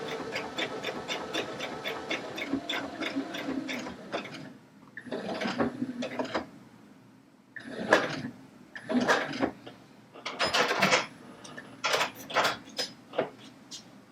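A Baby Lock Allegro sewing machine stitches a hem in fabric, running in short bursts of rapid, even needle clatter separated by pauses, close and moderately loud, with no one talking.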